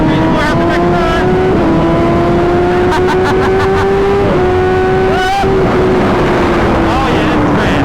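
A 2021 BMW M1000 RR superbike accelerating on the road, its engine note climbing steadily through the rev range with brief dips at gear changes, loud and close with wind noise throughout.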